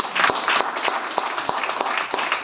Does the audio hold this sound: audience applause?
yes